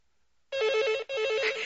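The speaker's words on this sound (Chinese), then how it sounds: "电话，电话，快！" A telephone in a radio drama rings twice in quick succession, each a loud trilling electronic burst after a moment of silence, with no voices over it.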